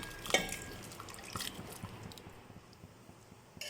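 Soft wet sloshing and dripping as kidney beans and their water tip into a pan, quiet and close, with a small clink at the start.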